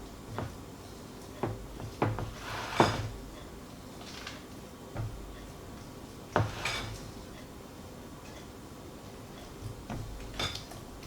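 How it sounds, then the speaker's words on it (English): A spoon stirs deviled egg filling with crumbled bacon in a bowl, giving scattered faint clinks and scrapes against the dish with quiet gaps between them. "Stir it around."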